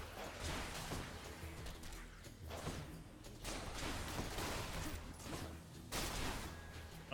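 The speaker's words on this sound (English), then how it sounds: "people just exploding?" Explosions in the action game Hades, a dense run of booming blasts and crashing hits that comes in repeated loud bursts over a busy game mix.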